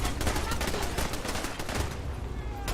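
Fallout 4 game combat: dense, rapid gunfire crackles continuously, with overlapping shots like automatic weapons and turrets firing, growing slightly thinner toward the end.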